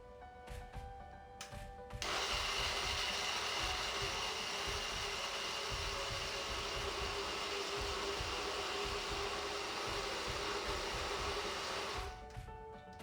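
A blender whirs loudly at steady speed while blending a tennis biscuit dessert, starting abruptly and running evenly for about ten seconds before cutting off.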